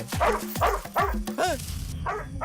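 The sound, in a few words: dog barking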